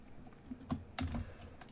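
Soft, sparse keystrokes on a computer keyboard, a few quiet clicks spaced unevenly over a low room hum.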